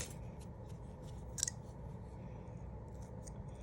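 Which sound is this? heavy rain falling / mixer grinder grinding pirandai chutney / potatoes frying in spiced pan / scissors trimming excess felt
scissors trimming excess felt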